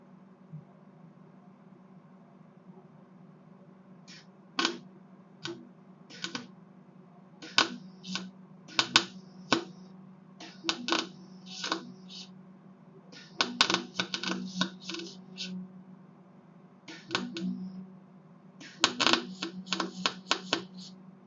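Wire-feed welding on the spindle of a 1976 MF 14 mowing deck: irregular sharp crackling bursts and spattering pops over a steady low hum, in clusters with short pauses.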